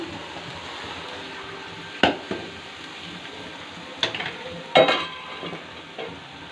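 Corn frying in a pan, a low background sizzle broken by a few sharp stirring scrapes and clacks of a utensil against the pan.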